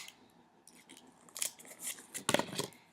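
Scissors snip through a length of ribbon being cut for a bow, a couple of quick close crisp cuts with light rustling of the ribbon.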